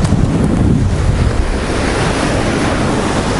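Stormy sea at Adler, Sochi, during a 2021 storm: heavy waves crash and churn close by while strong wind buffets the microphone, producing a loud, continuous roar with surging low rumbles and no talking.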